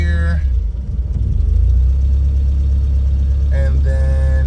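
A car engine idles as a deep, steady low rumble, with a brief surge early on before settling into an even hum; short bursts of tonal sound from something else appear at the start and near the end.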